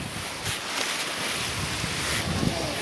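Waves surging onto the beach at Hopton, a loud continuous wash of surf mixed with heavy wind rumble against the microphone, with no distinct single crash standing out.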